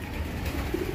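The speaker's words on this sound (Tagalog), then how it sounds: "Ito yung mga magugulong nating ibon." Racing pigeons arriving at the loft after a training flight, soft close cooing over a constant outdoor background with no talk.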